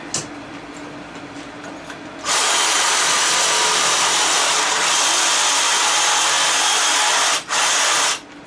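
A power tool cuts copper off a piece of brass, a loud harsh whine that starts after a couple of seconds, holds steady, and drops out briefly before stopping.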